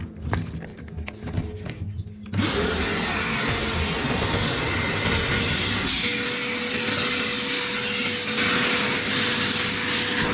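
A vacuum hose sucking concrete slurry out of a blocked drain, with faint scraping at first, then a loud, steady roaring suction that runs to the end.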